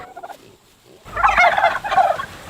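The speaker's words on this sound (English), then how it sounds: "these white broad-breasted turkeys from McMurray Hatchery are 16 weeks old" Sixteen-week-old white broad-breasted turkeys from McMurray Hatchery break into a loud, nearby burst of gobbling, two rattling calls in quick succession after a brief quiet.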